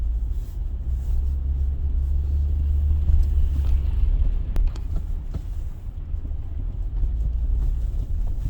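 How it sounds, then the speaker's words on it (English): A car draws near on a snowy mountain road after a blizzard, a steady low rumble of engine and tyres that holds loud throughout, with wind buffeting the microphone. "See that car coming."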